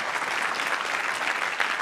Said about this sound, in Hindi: तालियां बजाइए भाई इनके लिए